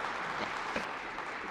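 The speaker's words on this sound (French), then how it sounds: "je pense qu'on peut leur donner une bonne main d'applaudissement" An audience in an airport hangar applauds at an official event, a short, steady burst of clapping at moderate level with no speech over it.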